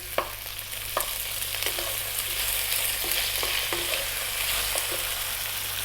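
Pork stir-fried over high heat sizzles steadily in a pan, with a spatula scraping and tapping against the metal roughly every second as the meat keeps moving, close and alone without talk.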